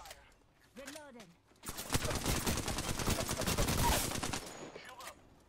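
Dense automatic gunfire from an Apex Legends match rattles in a sustained burst for a few seconds, loud and close, with a voice heard just before it.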